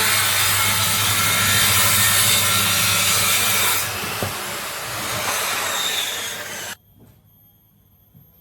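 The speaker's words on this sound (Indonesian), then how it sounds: "ini untuk bagian pinggirannya saya potong untuk kelebihannya" A power saw cuts through the excess edge of plywood board in one long loud rasping pass that eases partway through, then stops abruptly, leaving near silence.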